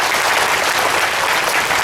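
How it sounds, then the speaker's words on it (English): An audience at an awards ceremony breaks into steady, dense applause, a continuous wash of many hands clapping close and loud with no voices on top. "let's have a huge round of applause for Shahabuddin sir."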